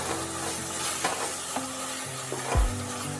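Tomatoes cooking down with salt and turmeric in a pan for a vegetable khichdi, giving a steady soft sizzle with a few sharp scraping stirs of a spoon against the pan.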